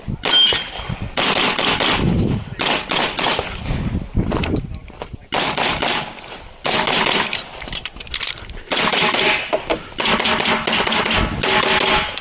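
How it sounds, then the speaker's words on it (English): Rapid, loud gunshots fired at targets during a range drill with a Gideon Optics Storm red dot sight, coming in quick bursts and strings with brief pauses between. "that's me shooting too fast"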